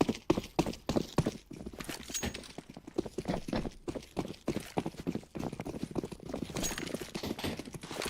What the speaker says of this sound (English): Heard all the footsteps coming towards him.